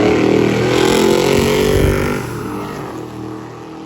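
A 500 cubic inch drag car, converted from a burnout car, roars loudly as it accelerates down the strip at a drag racing event, then fades somewhat as it pulls away.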